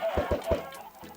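Minecraft chickens clucking in a short run of three quick, close clucks, then a softer cluck after a brief pause.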